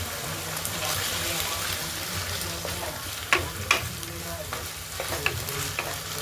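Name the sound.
frying fish roe with onion, ginger and garlic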